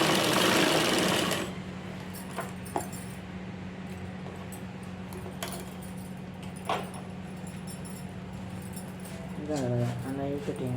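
A sewing machine runs in a loud burst while stitching a blouse lining, then fades to quieter handling sounds as someone talks over it.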